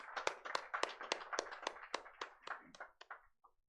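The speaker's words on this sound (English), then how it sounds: "Let's have a huge round of applause for ourselves to have resiliently powered through this." Symposium audience in Kolkata applauds, with distinct, fairly sparse claps from a modest group heard fairly close, quickening briefly and then thinning out to a few last claps.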